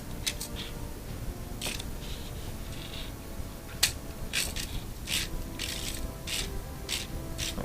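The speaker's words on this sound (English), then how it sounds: "when you turn this crank, it swivels the head." A Lego Star Wars AT-ST Raider model's crank being turned to swivel the head, giving faint, irregular plastic clicks and ratcheting ticks, close and quiet with no talking.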